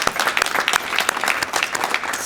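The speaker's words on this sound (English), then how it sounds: "Let's give them a round of applause." An audience claps loudly and continuously for students at a school district community schools event, a dense, close burst of applause with no voices over it.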